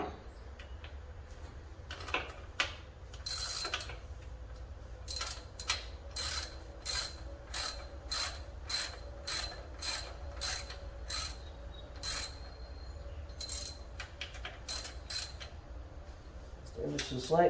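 A ratchet clicks in quick rhythmic bursts while tightening bolts on a 1971 Buick 455 water pump, about a dozen short sharp runs of clicks, close and fairly clear over a quiet background.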